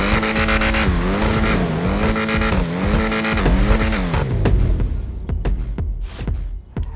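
Ocelot Jugular sports car engine in GTA Online, a loud harmonic engine note rising and falling through gear changes over several seconds, then dropping away into sharp transient clicks and bumps near the end.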